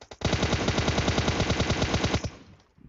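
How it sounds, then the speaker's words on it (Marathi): Rapid burst of gunfire in PUBG, a continuous run of evenly spaced loud shots lasting about two seconds, then fading out. "A shotgun shot shotgun shot shot"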